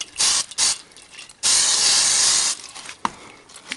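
Adhesive sprays from an aerosol can onto leaves laid out for a leaf composite plate: two short, close hissing bursts, then a longer steady spray lasting about a second, followed by faint handling noises.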